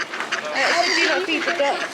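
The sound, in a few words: ducks quacking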